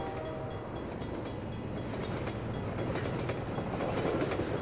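A train in Half-Life 2 rumbles past with a dense, continuous roar and faint rhythmic clatter, growing slightly louder toward the end, with no speech.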